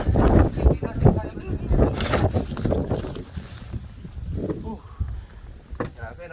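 Strong gusts during a major Toronto snow storm buffet the microphone in loud, rough bursts that ease off toward the end, with a person speaking and exclaiming under the wind.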